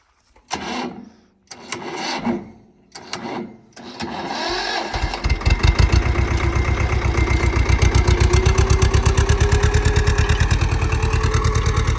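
Several failed cranks cough and stop, then a heavy diesel tractor engine catches and settles into a loud, steady, throbbing idle close by.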